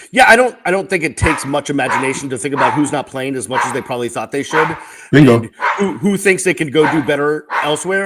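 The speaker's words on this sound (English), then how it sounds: "my 2 dogs are fighting over a toy" Two dogs bark, yip and whimper close by while scuffling over a toy, their noises running under someone talking almost nonstop.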